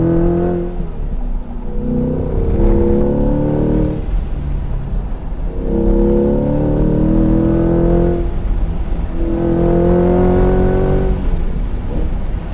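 A 2020 Chevy C8 Corvette with the Z51 performance package driven hard on a tight road, its engine rising and falling through repeated revving pulls and gear changes, loud and close.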